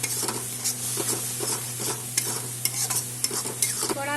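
Ground spice masala sizzles in a hot pan while a spoon stirs it, producing a steady frying hiss broken by regular close scraping strokes, with no talking.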